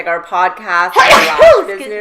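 A single person's sneeze bursts out mid-conversation in a wintry indoor setting, sharp and close, with people talking around it before and after.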